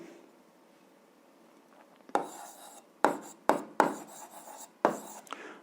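A pen scratches across paper in short bursts, several quick strokes with gaps between them, close and fairly soft, as an algebra expression is written out.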